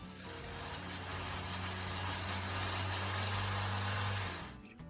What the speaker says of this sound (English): my Kia sounds like a grass trimmer